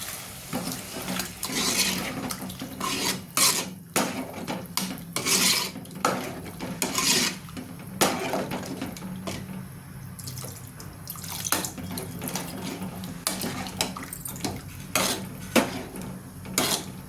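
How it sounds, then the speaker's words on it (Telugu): Water splashes and trickles into a metal pan of raw prawns and okra, with clinks and scrapes of cookware in short bursts; fairly quiet and close. "వాటర్ పోసుకుంటున్నాను"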